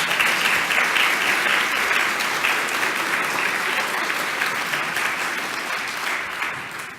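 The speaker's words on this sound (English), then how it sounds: "Round of applause." Steady, dense applause from an audience at a Heritage Day event, holding at a full, even level before tapering slightly near the end.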